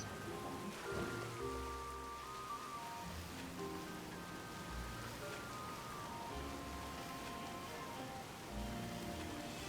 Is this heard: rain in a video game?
yes